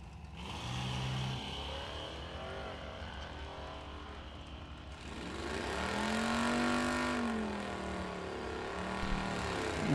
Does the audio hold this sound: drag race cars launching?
yes